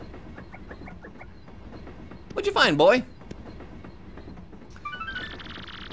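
A train ride in Paper Mario: The Thousand-Year Door, with a soft rhythmic rumble and clatter beneath game voices, then a brief louder burst and a high tone near the end.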